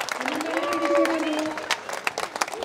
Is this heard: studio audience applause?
yes